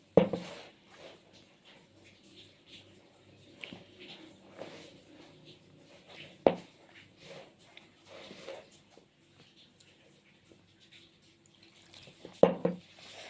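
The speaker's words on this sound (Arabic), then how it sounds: "هنزل بالميه بقى ايه، واحده واحده كده." Water goes little by little into sugared dough for dry Egyptian roqaq pastry. Sparse, close drips and faint wet squishes come with gaps between them, plus a couple of sharper knocks, and no talking.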